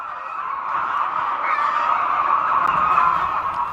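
A dense flock of poultry clucking and squawking together, a steady overlapping chorus close by with no talking.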